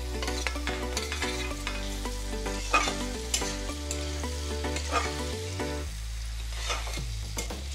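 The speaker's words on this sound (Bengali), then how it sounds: "সবজিটি ভাজা হয়ে গেছে গা" Vegetables and chopped tomato fry gently over low heat, a soft sizzle with repeated stirring and clinks of the utensil against the pan, a steady tonal hum running underneath.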